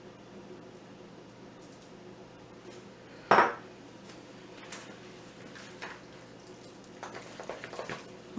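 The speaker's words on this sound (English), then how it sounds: "I'm just turning these chops and taking some of that seasoning and putting it in on those other chops" Pork chops turned in a frying pan for Southern fried pork chops: a single sharp clank of utensil on pan stands out midway over a steady faint kitchen hum, then quieter small clicks follow.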